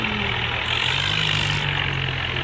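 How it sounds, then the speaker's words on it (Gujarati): An old tractor engine, modified, running steadily at close range, a loud continuous mechanical drone with a slight rise in the middle and no talk. "ટ્રેક્ટરને મારા પરદાદાજીનું ટ્રેક્ટર અમે મોડિફાઈ કરાવી દીધું છે"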